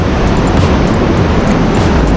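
Rough sea surf rolls onto Lingayen beach in Pangasinan, a loud, continuous roar of churning water close by, with wind buffeting and no voices.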